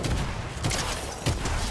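Rapid video game gunfire in a chaotic vehicle match, bursts of shots with heavier thumps near 0.6 and 1.3 seconds over continuous loud background game noise.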